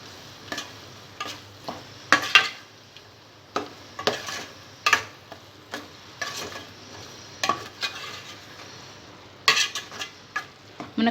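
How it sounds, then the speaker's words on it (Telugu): Drumstick pieces frying with ginger garlic paste in a pan for an Andhra fish curry are stirred in irregular, close scraping clacks of a spoon against metal over a low, steady sizzle, without talk. "అల్లం వెల్లుల్లి పేస్ట్ కూడా బాగా ఫ్రై అయిన తర్వాత ఇందులో ములక్కాడ ముక్కలు వేసుకోవాలి"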